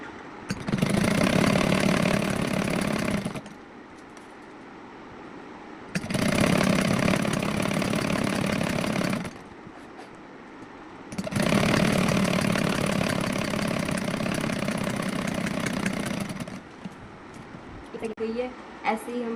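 An electric sewing machine stitches a suit in three long runs of steady, fast whirring, separated by brief pauses with quieter room sound, close and fairly loud.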